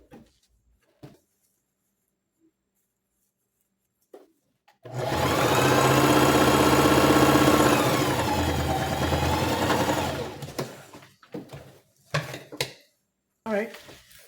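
Sewing machine stitching along a sleeve edge to neaten it, a steady motor whir running about five seconds, loud and close, stopping abruptly and followed by brief handling clicks and bumps.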